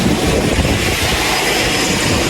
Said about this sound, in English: Doing a little quick vac of the whole vehicle